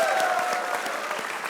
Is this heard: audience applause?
yes